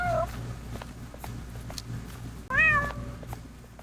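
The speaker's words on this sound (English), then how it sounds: "I heard a cat at the seed shop" A cat meows near the seed shop in Roblox Grow a Garden: one short meow at the start and a longer, rising meow later, both over a soft steady background hum.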